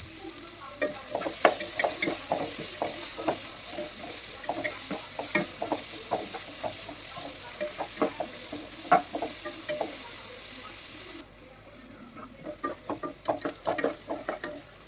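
Chicken curry base fries in a pan while a spoon stirs and scrapes through it in quick, repeated strokes over a constant soft sizzle. The stirring pauses briefly near the end, then resumes.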